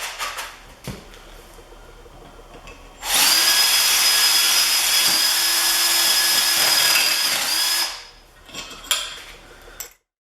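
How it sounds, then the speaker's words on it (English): A power drill bores a hole in the bottom of a welded steel skid shoe bracket for a Kubota snow blower, a loud steady whining grind lasting about five seconds, framed by light metallic clinks and handling. "We're going to drill the hole in the bottom, in the center."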